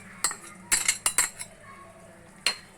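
Cooked brown cowpeas (karamani) tipped into a pot for Kerala olan, a handful of bright metallic clinks and knocks of a spoon against the vessel, close and irregular, with quiet pauses between.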